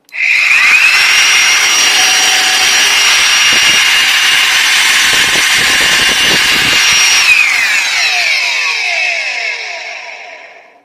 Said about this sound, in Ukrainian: Так, вийшло запустити мотор.